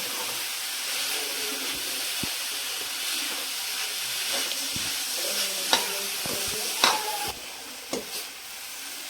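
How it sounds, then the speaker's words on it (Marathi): A modak filling mixture is stirred in a hot pan, with a steady sizzling hiss under scattered scraping and clinking of the spoon against the pan, close and moderately loud. "7 ते 10 मिनिटं हे चांगलं मिक्स करून घ्यायचं आहे."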